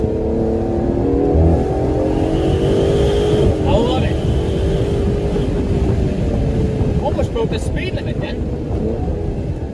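An Aston Martin DBS Superleggera Volante's exhaust drones loudly and steadily while driving, rising and falling through gear changes, with a person talking over it partway through.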